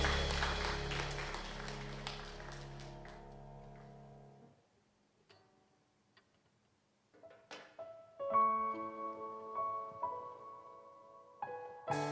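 A church congregation at a Wednesday worship service claps for several seconds. The applause fades to near silence before instrumental music starts up.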